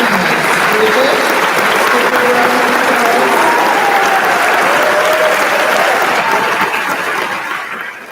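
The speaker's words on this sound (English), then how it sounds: "Bridget, let's give her a round of applause." Sustained, loud applause from the audience at an eighth-grade graduation ceremony fills the hall, with voices mixed in, tapering off near the end.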